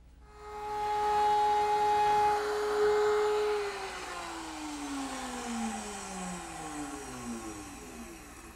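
A radial arm saw cuts grooves into a desk top, giving a loud, close motor whine. The tone holds steady, then sags as the blade bites into the wood and stays lower to the end. No talking is heard.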